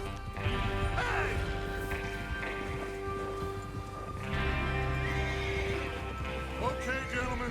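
Horses whinny and neigh amid clip-clopping hooves in the story mode of Red Dead Redemption 2 as a gang prepares to ride out for a train robbery, under a continuous rumble of movement, with voices speaking.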